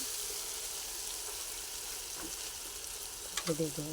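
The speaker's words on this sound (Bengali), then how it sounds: "এবার মাংসটা ঢেলে দেবো" Country chicken pieces sizzle steadily in hot spiced oil in a pan, a continuous crackling fry with a couple of louder bursts and stirring clatters near the end.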